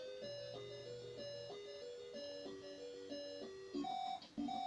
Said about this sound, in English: And that sound indicates that Jason killed the person that was needing help.